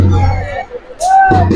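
Crowd hubbub at a tenth-of-Muharram fair, a steady babble of many voices with a brief lull and a rising whistle-like tone, loud and close throughout.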